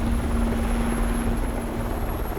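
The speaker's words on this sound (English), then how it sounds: "The chopper takes off to conduct an aerial search." A helicopter lifting off for an aerial search over snowy Alaskan country, its rotor and engine droning steadily and loudly with a constant whine, heard alone throughout.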